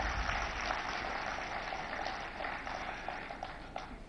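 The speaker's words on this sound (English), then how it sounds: "Let's give them a huge round of applause," A stadium audience applauds steadily to welcome returning Tokyo Olympic hockey players at Kalinga Stadium in Bhubaneswar, a dense wash of many hands clapping at even strength for the whole stretch, slowly tapering near the end.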